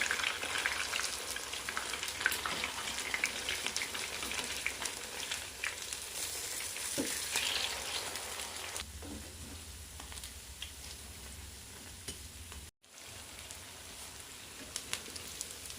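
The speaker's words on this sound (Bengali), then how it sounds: "দুপাশে উল্টিয়ে পাল্টিয়ে খুব ভালো করে ভেজে নিতে হবে" Continuous crackling sizzle of sabudana pakoras deep frying in hot oil over a low flame, close and steady, dropping slightly quieter partway through with a brief cut.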